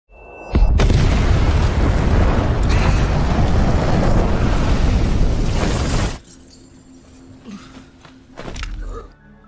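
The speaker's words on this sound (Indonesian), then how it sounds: "Setelah ledakan yang membuat Pak Moody dan Pak Edward tidak bisa keluar dari bunker itu" A loud, sustained roaring explosion at a bunker in the 2021 film The Protégé fills the first six seconds, then drops to a quiet rumble with a brief swell near the end.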